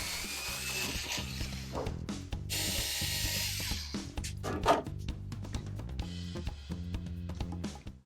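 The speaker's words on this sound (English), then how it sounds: "I'm going to remove the legs so I can work on them" A hand tool ratchets repeatedly as the legs are unscrewed from a piece of furniture being restored, with steady clicking bursts running under background music.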